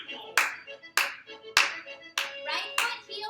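Five crisp, separate hand claps spaced about half a second apart during a seated chair Zumba Gold exercise class, with music or faint background sound between the beats.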